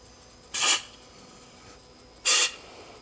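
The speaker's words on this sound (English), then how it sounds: "I'm just going to spray it on the valves." Two short hissing bursts of Yamalube spray onto the valves of a Bolens riding mower engine, each lasting about a quarter second, close and crisp, separated by a quiet pause.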